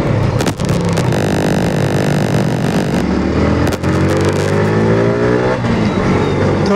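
A modified Yamaha R15 V4 motorcycle sets off on a ride, its loud engine revving up and pulling away with rising harmonic pitch, steady and close throughout with no talk.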